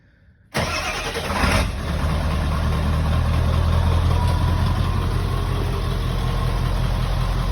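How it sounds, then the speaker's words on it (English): A Ford Powerstroke 7.3L diesel pickup fitted with a mocked-up 5-inch cat-back exhaust starts abruptly after near silence, then settles into a loud, steady, rumbling diesel idle that continues unbroken, with no talk. "So we're gonna start it with all the exhaust mocked up real quick,"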